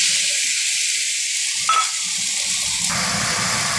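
Stone-ground spice paste hits a hot pan for a Bhola fish jhal curry, setting off a loud, steady close sizzle with a brief spatter surge partway through, no voices.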